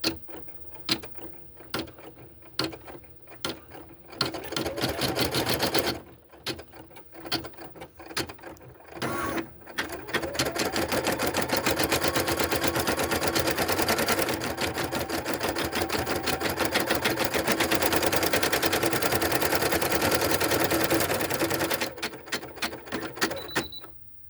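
A computerized embroidery machine stitches felt voodoo doll shapes in brown thread, giving a loud, fast, steady mechanical rattle. Bursts start and stop early on, then a long continuous run follows, and no one speaks.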